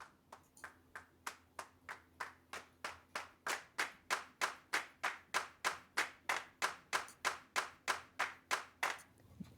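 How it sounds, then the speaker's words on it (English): Hand clap samples fire from a drum programming pad in a steady, even rhythm, about two dozen crisp claps in a row, growing slightly louder as they go. "you'll hear the different samples or the different individual recordings of hand claps"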